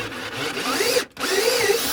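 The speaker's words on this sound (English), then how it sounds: "we're gonna see if the old DeWalt drill can just zip it out of there" Close, loud whine of a DeWalt cordless drill spinning out a truck cab body-mount bolt, briefly cutting out for a moment before revving back up and running steadily again.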